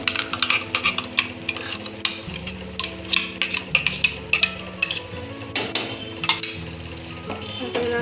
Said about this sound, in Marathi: आता हे पेस्ट याच्यामध्ये पेस्ट टाकणार